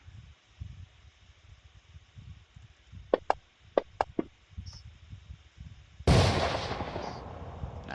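Sniper gunshots used as an effect in a Starfinder tabletop game, several sharp cracks in quick succession against quiet room noise, followed by a louder burst of noise.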